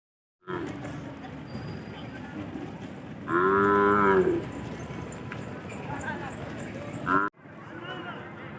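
A loud bull moos once, long and deep, at a cattle market near Pandharpur, over a steady crowd murmur and distant chatter; a fainter low call follows later.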